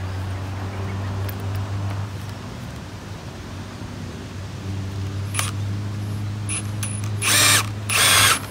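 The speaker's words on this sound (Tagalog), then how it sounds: "binubutasan ko muna ng drill para hindi po mag-crack yung kahoy" A power drill bores holes in a long piece of wood in an outdoor vegetable patch, running as a steady low whir with a few sharper high-pitched bursts near the end and no talk.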